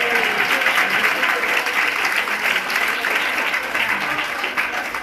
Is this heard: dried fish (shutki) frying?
no